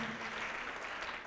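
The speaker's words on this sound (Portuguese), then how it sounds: "Vamos aplaudir mais ao nome de Jesus." A congregation at a televised Brazilian evangelical church service claps in dense, sustained applause that runs throughout.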